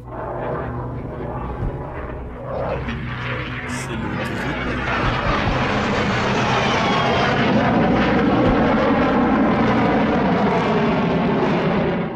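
A Saab JAS 39 Gripen fighter jet roars loudly and steadily, its engine noise swelling into a dense, continuous rush that builds toward the end, with no voices over it.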